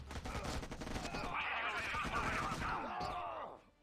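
Gunfire exchange in the video game Act of War: Direct Action, with dense overlapping shots and bursts rolling continuously for several seconds, loud and close, fading out at the end.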